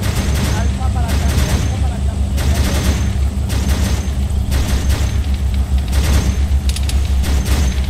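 Rapid gunfire and booming shots from a military firefight in ArmA 3 build into a dense, continuous barrage, loud and close, with bursts recurring every second or so throughout.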